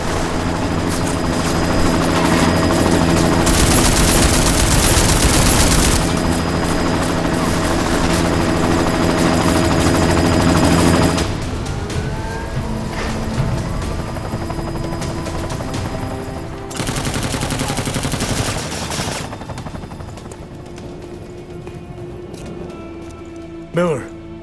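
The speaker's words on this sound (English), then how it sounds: "You've got to stop that chopper." A helicopter's loud, continuous rotor thrum dominates a Deus Ex Mankind Divided scene, with bursts of automatic gunfire and sudden shifts in intensity; people talk over the din.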